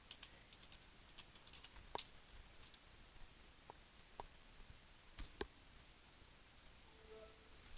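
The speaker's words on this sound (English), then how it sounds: "Just type in your password." Password entered on a computer keyboard during a Windows 7 installation: a few sparse, very faint key clicks scattered over quiet background hiss.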